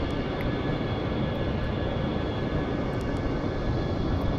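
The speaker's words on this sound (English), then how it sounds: "I'm flying a wickedly crazy looking aircraft." A simulated Avro 730 Vigilant aircraft in Flight Simulator X gives a continuous, loud, even engine roar with a broad rushing hiss and no variation across the short stretch.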